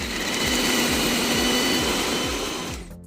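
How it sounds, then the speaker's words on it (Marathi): A mixer grinder whirs loudly and steadily as it blends soaked cashews with water into a smooth paste, the motor droning for about three seconds before winding down and stopping. "आता हे पाण्यासहित मिक्सरच्या जारमध्ये टाकून घ्यायचं आणि याची छान पेस्ट बनवून घ्यायची"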